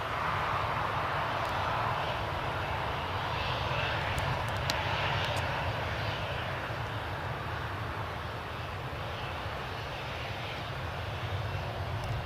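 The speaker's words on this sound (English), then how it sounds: "Tui Dreamliner's pushing back." A TUI Boeing Dreamliner airliner pushes back at Newcastle International Airport, its engines giving a steady, distant low roar and hiss that holds throughout without voices.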